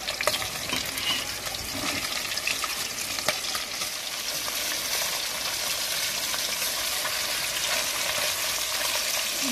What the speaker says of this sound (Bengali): মাছগুলো তাহলে এবার ভাজা হোক।